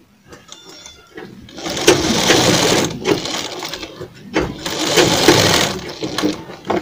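A sewing machine stitches a half collar neck in loud, rapid bursts of mechanical whirring, separated by short pauses, recorded close up with no talking.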